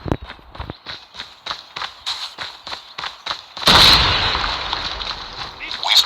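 In a Garena shooter game, rapid running footsteps and gunfire are followed by a loud grenade blast that trails off into a long rumble, with game voices around it.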